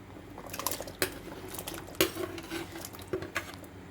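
Taro pieces are dropped into a pan of simmering sardine curry, giving a run of sharp clatters and knocks against the pan with soft bubbling between them.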